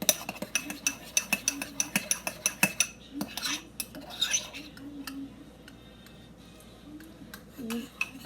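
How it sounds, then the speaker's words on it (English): A metal spoon clinks repeatedly against a bowl while stirring yeast mixture for homemade rolls, quick rhythmic taps for a few seconds, then softer scraping and a few faint clinks, close and fairly quiet. "stir up your yeast. Make sure that the lumps are all out of it"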